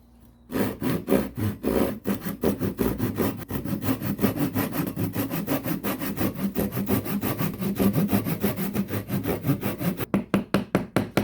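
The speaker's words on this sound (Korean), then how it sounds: "움직이지 않게 이렇게 집게로 집어넣고 톱으로 조금씩" A hand saw cuts a hinge groove into clamped wood for a three-tier recycling bin, with quick, steady back-and-forth rasping strokes close by, speeding up slightly before stopping.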